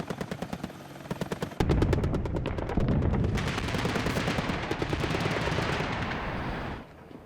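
Helicopter-mounted machine gun with a rate of fire of about 650 rounds per minute blasting loud, rapid automatic bursts. The bursts sit close and heavy over a rotor-like roar and stop abruptly near the end.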